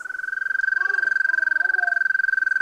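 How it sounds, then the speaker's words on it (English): A toad's call played back from a phone: a steady, high, continuous trill of rapid pulses that runs unbroken through the whole stretch, with faint overlapping chirps underneath. "A toad is right."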